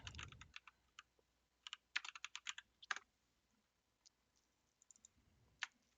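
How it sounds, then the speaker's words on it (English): A clacky computer keyboard is typed on in scattered quick bursts of sharp clicks, close but quiet, with pauses between flurries and no talking. "You can probably hear my clacky keyboard."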